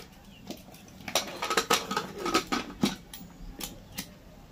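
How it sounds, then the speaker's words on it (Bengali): A metal pressure cooker lid is pressed and locked onto a pot of banana flower with a little water, giving a run of close, sharp metallic clicks, scrapes and clinks over a few seconds, with no talking. "এবারে ঢাকনাটা লাগিয়ে দেবো।"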